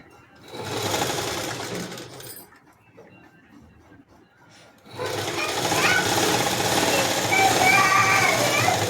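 Sewing machine running loud and steady while double-stitching a body skirt in a tailoring class, in two long bursts separated by a quieter pause.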